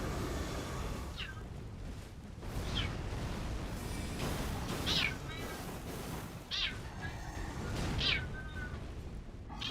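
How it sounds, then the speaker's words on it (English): A house cat meows several times close to a microphone, short rising calls spaced a second or two apart over steady background noise from a game session. "Pardon the cat in the mic."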